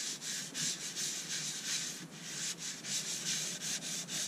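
Steady abrasive sanding against an elm vase on a lathe, a continuous close rasping hiss that pulses slightly in rhythm as the piece spins.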